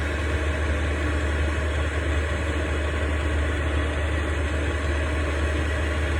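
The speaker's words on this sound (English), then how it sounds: "This is supposed to be an 8 kilowatt diesel heater." A running 8 kW diesel heater gives a steady, continuous low mechanical hum and broadband fan rush that holds level and fairly close throughout, with no voices.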